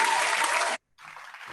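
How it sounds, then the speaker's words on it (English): A burst of audience applause and cheering, cut off abruptly, then a softer smattering of clapping resumes. "let's give a big round of applause"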